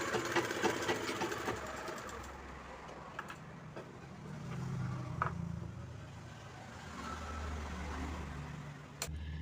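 A sewing machine stitches blouse fabric with a steady, close mechanical whir and rapid needle chatter, running continuously and swelling slightly in speed with no voices.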